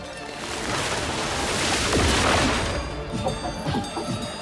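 Dense, sustained volley of gunfire in the video game Clair Obscur, a loud continuous fusillade that swells toward the middle and then breaks into scattered separate shots near the end.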